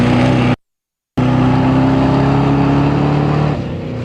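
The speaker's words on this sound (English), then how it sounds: "And the GBM Racing Jeep." Yellow GBM Racing Jeep in an offroad race stage, engine droning loudly as it passes close by, with a brief cut to silence before the steady roar resumes and eases slightly at the end.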